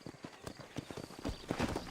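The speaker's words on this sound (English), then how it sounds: "You spur your horse and move fast." Horse hooves clip-clop at a quick, steady walking rhythm in the video game Red Dead Redemption, close and moderately loud for just under two seconds.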